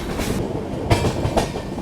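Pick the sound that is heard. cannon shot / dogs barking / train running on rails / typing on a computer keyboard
train running on rails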